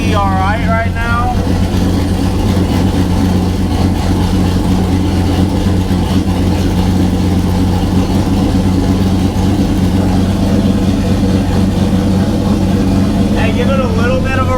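An LS-swapped Datsun 280Z idles loudly and steadily up close, a constant rumbling drone with a person talking over it at the start and end.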